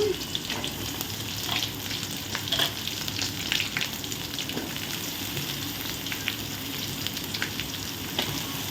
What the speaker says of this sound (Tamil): இதெல்லாம் சேர்ந்து நல்லா வதங்கட்டும் நம்ம ஒரு வாட்டி கிளறி விடுவோம்